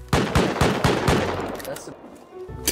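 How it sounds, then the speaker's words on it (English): Suppressed gunshots from a silenced gun in a video game, a rapid series of sharp muffled bursts in quick rhythm that thin out and fade, with a final shot near the end. "I'm getting shot by a silencer"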